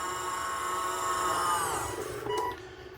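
An electric slide-out on a 2024 Coachmen Catalina Expedition 192FQS travel trailer retracting, a steady motor whine that rises in pitch and then cuts off after about two and a half seconds.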